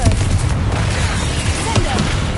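A Confringo spell explosion in the Hogwarts Legacy video game: loud, dense booming blasts within continuous heavy combat noise, with a voice present.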